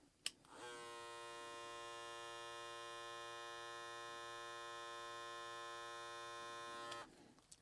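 Kemei 1825 hair clipper switched on and running for about six seconds, a steady close electric buzz with a strong harmonic hum, clicked on and off at either end.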